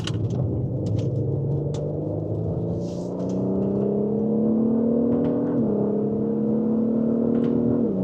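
A BMW X3 M40i or Audi SQ5 SUV engine pulls steadily upward in pitch as it accelerates, a smooth continuous drone with clear harmonics and a brief dip near the end before it climbs again. No one speaks.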